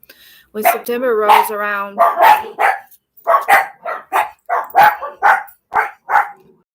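Dogs bark in a series of sharp, repeated yaps close by, mixed in with a person talking over them.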